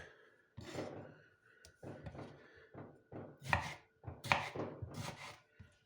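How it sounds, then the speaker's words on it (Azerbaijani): A knife chops a tomato into pieces on a cutting board for a lettuce salad, with a series of close, irregular cuts and thuds in quick bursts, each one loud and clear with no talking. "Pomidorumuzu belə doğrayırıq."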